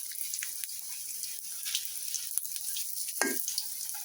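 Shiuli (night jasmine) leaf fritters fry in oil in a village kitchen, giving a steady close crackling sizzle with small pops and one brief louder splash-like burst, no talk.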